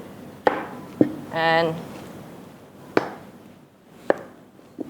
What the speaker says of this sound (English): We're gonna dice it. So just gonna cut the head off.